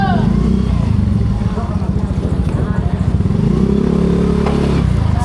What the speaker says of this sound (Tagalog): Ops, may motor po sa likod.